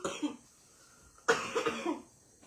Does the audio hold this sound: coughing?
yes